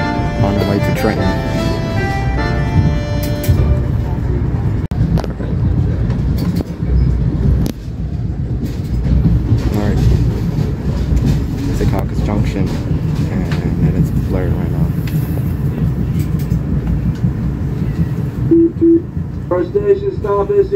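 A commuter express train between Newark Airport and Metro Park rumbles steadily along the rails with a continuous low roar and occasional clacks, loud and close as if from inside a car.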